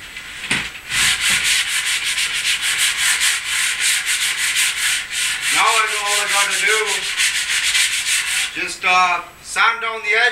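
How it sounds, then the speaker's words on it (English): Steady hand sanding along the edges of a wooden fur stretcher, a loud, continuous rasping scrape with rhythmic strokes that carries on throughout, joined by brief squeaky rubbing near the end. "Sand down the edges, you know, so it's nice and round."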